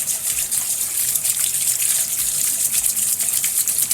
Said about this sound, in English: I'm going to drain and cool down my green beans because I don't want them to overcook.